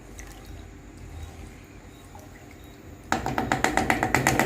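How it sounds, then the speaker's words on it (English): Garlic and pimento with scotch bonnet pepper get a quick stir in a pot for Jamaican salt mackerel rundown; after a quiet start, a burst of rhythmic scraping and clinking strokes sets in, close and fairly loud. "And we're just going to give this a quick stir."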